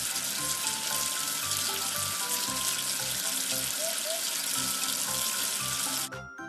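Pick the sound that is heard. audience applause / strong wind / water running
water running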